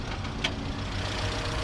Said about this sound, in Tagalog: Ito yung makina niya.